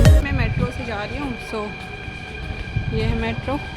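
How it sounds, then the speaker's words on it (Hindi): Rumble and hum inside a moving metro train, steady and fairly loud, with someone talking over it throughout. "मैं मेट्रो से जा रही हूँ।"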